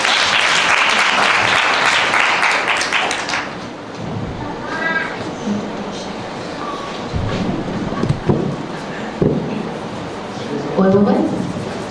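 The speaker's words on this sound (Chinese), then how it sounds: "我们掌声鼓励一下。" Loud, dense applause from a crowd at a 2024 rock music festival fills the first few seconds, then fades out as people talk over scattered background noise.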